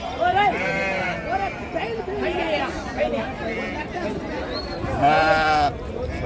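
Sheep bleat repeatedly at the Gudur sheep market, with several nearby calls rising over busy crowd chatter and voices talking close by.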